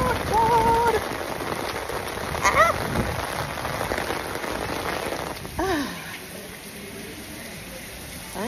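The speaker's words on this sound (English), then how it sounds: "this is the heaviest I've seen it rain since I've been here" Heavy rain pours down in England in a dense, steady hiss, with a few brief voice-like sounds, then softens noticeably over the last few seconds.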